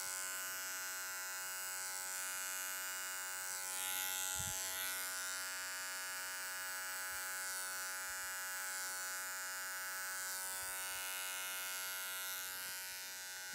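Electric hair clippers touching up a fade haircut, a steady close mechanical buzz that runs continuously with slight shifts in pitch as the blade moves, with no one talking.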